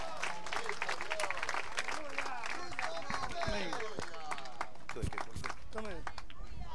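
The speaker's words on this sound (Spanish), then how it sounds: "dele un fuerte aplauso al Señor en esta hora." Church congregation applauding beneath continuous loud talk and shouting voices, the clapping forming a busy, crowded background texture that stays under the speech throughout.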